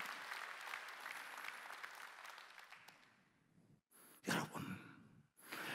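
A church congregation at a Sunday worship service claps together in dense, sustained applause that gradually dies away, followed by a few brief, louder bursts of sound.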